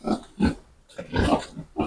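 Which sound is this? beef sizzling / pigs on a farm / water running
pigs on a farm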